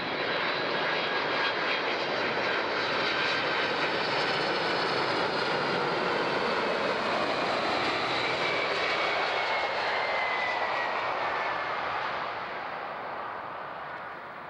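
A United airliner lands on runway 14 at Zurich, its engine roar loud and continuous for the whole stretch, fading slightly toward the end.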